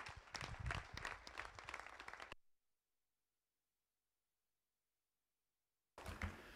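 Applause from attendees at a municipal council meeting in Allonnes: dense clapping for about two seconds, then it cuts off into near silence before another burst of clapping returns at the close.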